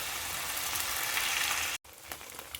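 Beef pieces searing in a hot pan give a steady, loud broadband sizzle that runs unbroken, then cuts out abruptly before quieter crackles resume.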